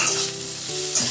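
Green peas sizzle briefly as they fry lightly in a pan, a short burst of hissing with a clink of stirring near the end.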